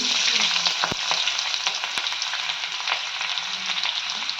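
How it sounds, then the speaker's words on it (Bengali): Chopped onion fries in oil in a pan, giving a constant crackling sizzle with a couple of sharp utensil clicks on the pan and light stirring. "পেঁয়াজ কুচি দিয়ে দিচ্ছি।"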